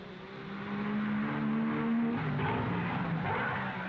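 A 1955 Formula 1 racing car at the Monaco Grand Prix slides through the chicane, its engine note droning and rising in pitch as it revs, heard at middle distance over a rough, noisy background with no voices.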